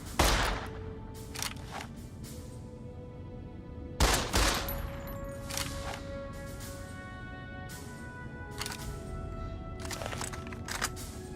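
Gunfire at a shooting range in Fallout New Vegas: sharp, fairly loud shots come in scattered bursts of single cracks and quick volleys, with a humming range ambience and lingering ringing between them.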